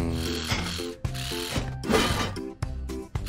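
A wrench ratchets on the hubcap of a toy monster truck, a run of quick, repeated mechanical clicks broken by short pauses, close and fairly loud.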